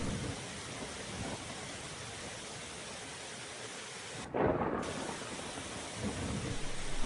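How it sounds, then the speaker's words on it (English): Steady rain falls throughout, with a low rumble of thunder swelling in the middle and again toward the end, heard alone without any voices. "It had been raining since last night."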